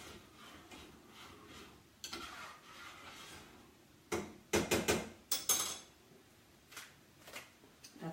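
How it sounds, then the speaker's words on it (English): Rice being stirred in a pot with turmeric added, heard as soft scraping under a low background hiss, then a burst of several close, loud clattering strokes against the pot, followed by a few lighter taps. "One more stir."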